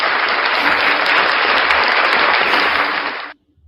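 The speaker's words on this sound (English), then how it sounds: "round of applause for Van Valiant" Audience applause for Van Valiant at a live breakfast show, a dense, steady wash of clapping that holds for about three seconds and then cuts off abruptly into silence.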